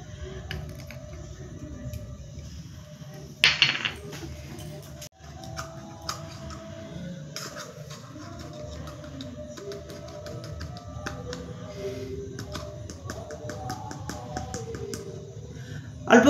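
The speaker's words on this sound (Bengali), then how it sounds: "বেসনটা আমি এবার গুলিয়ে নেব।" Gram flour (besan) batter with rice flour is mixed in a bowl for mushroom pakora, giving soft, rapid tapping and scraping strokes in uneven rhythm, close and moderately quiet, with occasional louder knocks.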